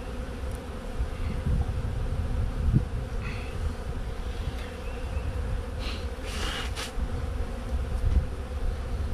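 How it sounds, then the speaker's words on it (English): Honeybees buzzing around an open hive during an inspection, a continuous close droning hum with individual bees swelling louder as they fly past, steady throughout with no talking. "that bee was trying to sting me. It was in my beard and wasn't able to sting me"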